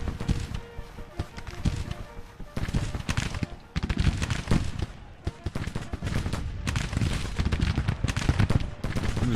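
Massed musket fire from a Grand Tactician: The Civil War battle, a dense crackle of overlapping volleys rolling on without pause, with indistinct voices mixed underneath.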